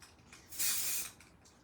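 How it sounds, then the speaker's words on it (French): Spray paint can releasing a single burst of about half a second, a loud, bright hiss that rises sharply and cuts off, heard close up with no talking. "ça revole quand même un peu les peintures en spray"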